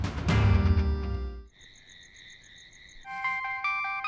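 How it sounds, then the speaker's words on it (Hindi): A short electronic ringtone plays in a repeating warble, then switches to a brighter melodic phone tone after a burst of louder music. "आ गया नसीर भाई का फोन"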